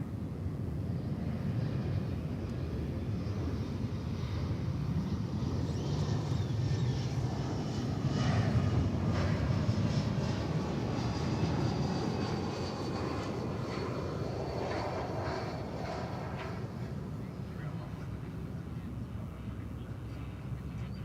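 Airplanes at DFW Airport produce a broad, steady roar of jet engines that swells and fades slightly over about twenty seconds, heard from a distance with light wind noise and no talking.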